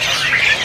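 A caged jalak suren starling at a bird market stall gives a brief, loud, bright chirping call close by, with no speech.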